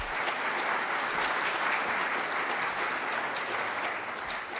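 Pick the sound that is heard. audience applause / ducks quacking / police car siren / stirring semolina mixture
audience applause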